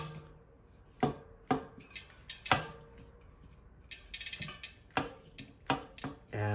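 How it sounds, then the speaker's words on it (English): A carbon gravel bike wheel grinds against its cassette, giving a string of sharp mechanical clicks and ratcheting scrapes at irregular intervals, fairly close and moderately loud, with no talking. "And it's like definitely grinding on the cassette."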